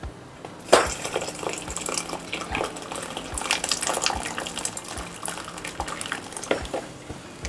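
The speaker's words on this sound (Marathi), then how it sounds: "आता मी याच्यात गरम पाणी घालते" Hot water pours into a cooking pot while varan, a Marathi dal, is being made, a steady close gush of liquid with a sharp splash near the start and bursts of sloshing throughout.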